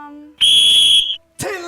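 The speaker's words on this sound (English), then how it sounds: "are you questioning my whistle blowing?" A coach's whistle sounds one loud, shrill blast lasting under a second, with brief talking voices just before and right after it.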